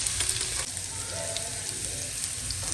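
Garlic sizzling in hot oil in a pan with mustard seeds and cumin: a steady, close crackle and hiss that continues without a break.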